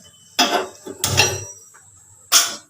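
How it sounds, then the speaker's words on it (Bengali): A metal kadai is set down on a gas stove, making three sharp, close metallic clanks separated by brief quiet gaps. "এবার একটা কড়াই বসিয়ে দিচ্ছি।"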